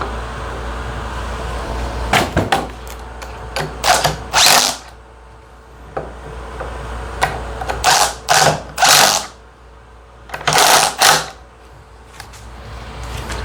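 DeWalt DCF860 and Milwaukee Gen 3 impact drivers drive 3/8 by 8-inch lag screws, the DeWalt on a 1.7 power stack battery and the Milwaukee on a 12 amp hour high output pack. Loud, close bursts of rapid hammering come in several separated runs.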